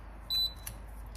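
Air fryer signalling the end of its cooking cycle in a kitchen, a single short electronic beep with a faint second chirp, heard alone over quiet room tone.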